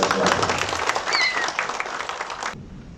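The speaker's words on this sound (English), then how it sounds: "Let's give our family a big round of applause as well." A crowd at an association's annual general membership meeting bursts into a loud round of applause that tapers and cuts off abruptly after about two and a half seconds, with a voice briefly heard over it.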